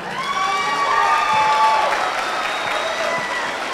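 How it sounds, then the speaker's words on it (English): Applause from the crowd at a youth fair market steer show rises and holds for a few seconds, broad clapping mixed with a thin whistle-like tone and a little crowd murmur, fairly loud. "Let's give her a round of applause."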